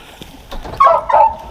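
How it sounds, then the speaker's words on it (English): A hound dog gives a few short, close yips and barks, rising quickly in a brief burst near the end. "That little dog right there might be a good one."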